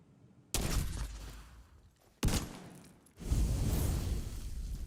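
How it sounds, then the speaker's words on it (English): A chem launcher fires in a video game, loud bursts that kick in abruptly three times and then hiss on in a sustained spray, no voices present. "We'll just have to keep using the chem launcher then"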